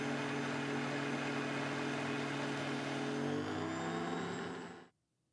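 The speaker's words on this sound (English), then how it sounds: "The OmniBlend can whip cream." A JTC OmniBlend TM800 commercial high-speed blender (3 horsepower, 38,000 rpm) whips cream with a loud, steady, whining motor drone that holds for several seconds, then cuts off abruptly into silence.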